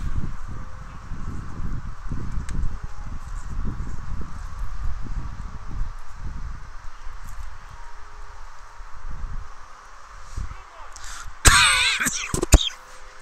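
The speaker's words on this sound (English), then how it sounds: "Been dealing with a cough for a couple weeks." A sports broadcaster's cough and throat clearing during a baseball game, with sharp bursts near the end rising briefly above a steady low background murmur.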